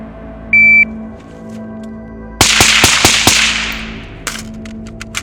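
A shot timer gives one short, sharp electronic beep, then a pistol fires a rapid string of loud, close shots at targets from 10 yards, the echoes trailing off, with a few lighter clicks afterward.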